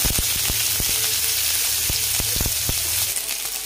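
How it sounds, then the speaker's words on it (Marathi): Cumin and mustard seeds crackle and sizzle in hot oil in a pan, a steady close frying hiss with sharp scattered pops that stop near the end. "जिरे जिरे मोहरी छान तळतळली की त्याचबरोबर कढीपत्ता"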